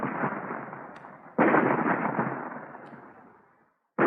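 Explosion effects from a vintage radio drama, where weapon fire splits a rock. Two loud, roaring blasts each decay slowly, and a third blast starts just as the sound cuts off.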